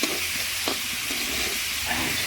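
Vegetables and brinjal sautéing with dried fish in a pan, a loud steady sizzling hiss close by with a few soft stirring scrapes of a spatula, and no talking.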